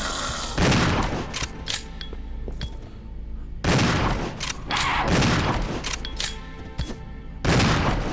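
Bursts of rapid gunfire in the video game Resident Evil 0 HD Remaster, in short volleys separated by brief pauses, loud and sharp with a booming echo; no speech.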